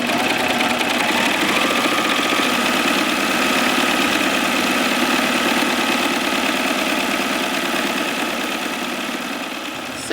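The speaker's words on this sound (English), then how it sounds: "I'm going to take it to the serger, lay it down, and just serge along the edge." A serger running a 4-thread overlock stitch hums steadily, with a rapid mechanical chatter, as it sews along the folded edge of fabric. The sound is close and constant, with no talking.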